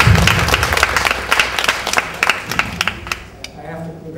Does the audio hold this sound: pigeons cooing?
no